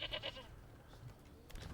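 Goats at a goat shed in the video game Manor Lords give a quick run of about three faint, wavering bleats, followed by low background ambience.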